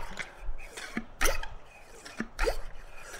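Wet, irregular gurgles, drips and squelchy plops as water is drawn up a transparent hose by a rustic hand-operated vacuum pump, each stroke giving a short pulse of sound, close and fairly quiet.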